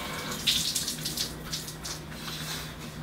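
Shower water runs steadily with a continuous hissing spray, close and moderately loud, with slight splashing variations and no talking.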